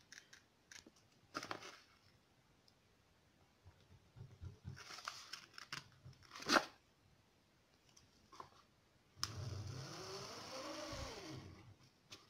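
Scissors cutting through adhesive fabric in short separate snips, then one longer continuous cut near the end, close and fairly quiet with no talking.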